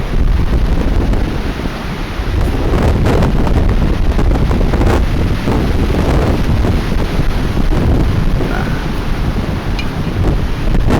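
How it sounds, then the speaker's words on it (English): Strong gusting wind during Storm Katie roars steadily across the microphone for the whole stretch, loud and broadband with constant buffeting and no voices. "doing the best I can with that gas and this wind"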